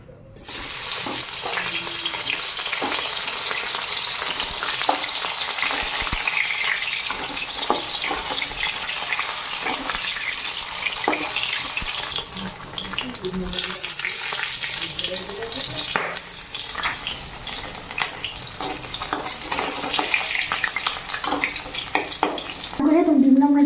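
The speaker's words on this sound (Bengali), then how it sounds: "তো মাছটা আগে একটু হালকা ভাজা নিই" Fish lightly frying in a pan in a home kitchen, a dense continuous sizzle with occasional clicks and clatter running throughout, fairly loud and close, with no talking.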